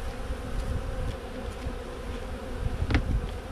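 Honeybees in a hive box with a weak population and robbing nearby hum in a steady, moderate buzz, with individual bees flying close past now and then and no talking.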